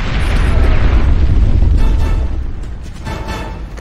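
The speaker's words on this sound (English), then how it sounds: "Mortar! Mortar fire!" A heavy mortar explosion in the Ghost Recon Advanced Warfighter 2 video game, a loud deep boom with a long rumbling roar that slowly fades over several seconds, with no talk over it.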